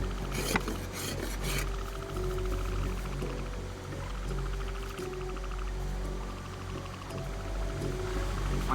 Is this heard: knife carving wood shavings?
yes